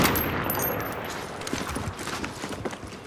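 Dense, crackling automatic gunfire in Call of Duty: Modern Warfare, a steady rattle of rapid shots mixed with scattered impacts and battlefield noise, continuous through the stretch with no talk.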